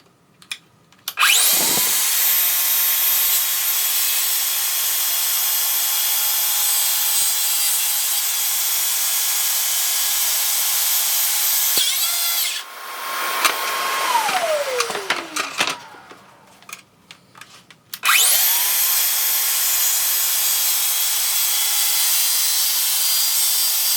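A track saw rips its first cut through wood, motor spinning up with a loud steady whine that holds for over ten seconds, winds down with a falling pitch, then starts again for another sustained run.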